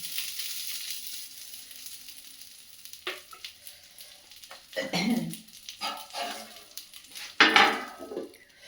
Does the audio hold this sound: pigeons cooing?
no